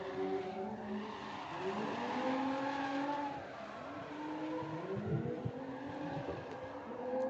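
Pro Light 235 drift cars at the Ultimate Drifting Challenge finals in Emmett, Idaho, squeal their tires continuously through a tandem run, with engines revving and sliding pitch sweeps rising and falling, loud and steady throughout.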